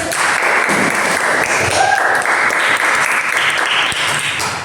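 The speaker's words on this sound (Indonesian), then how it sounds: "Kita berikan aplaus dulu." Classroom applause from a group of students, steady and sustained clapping that fills the room at close range for several seconds, with no talk over it.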